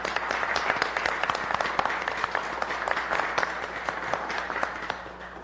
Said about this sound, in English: Members of the committee, would you join me in giving Captain Patrick a round of applause?